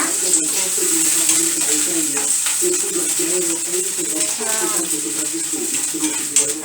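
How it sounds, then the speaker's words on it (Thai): Squid tentacles stir-frying in a pan for stuffed cuttlefish make a continuous sizzle with a high hiss, punctuated by occasional utensil taps and scrapes close by. "ใส่หนวดปลาหมึกลงไปได้เลยค่ะ ก็ผัดให้เข้ากันค่ะ"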